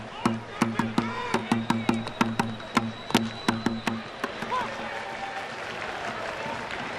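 Baseball stadium crowd at a ballpark game clapping in a rapid rhythmic burst of synchronized claps, then breaking into a broader cheering roar with scattered voices, moderately loud and spread out.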